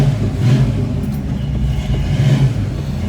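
A warmed-up truck engine revs close by, loud and rough, with throttle rising and falling in a couple of surges over a constant rumbling idle.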